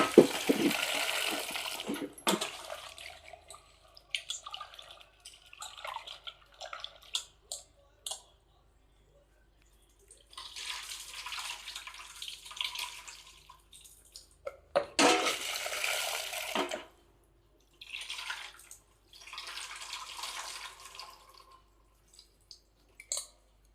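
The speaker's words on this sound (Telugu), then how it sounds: "కందిపప్పు, పచ్చిమిర్చి, 2 టమోటా బాగా శుభ్రంగా కడుక్కోవాలి" Toor dal, green chillies and tomatoes are washed under running water in a kitchen, with intermittent splashing and gushing bursts separated by quiet gaps, plus occasional clinks of a vessel.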